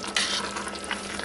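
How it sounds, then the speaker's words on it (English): A spoon stirs chicken in a thin, very hot yogurt sauce in a pot, giving a steady close sizzle and bubbling with scraping swishes, alone and moderately quiet. "And I'll give that a good stir."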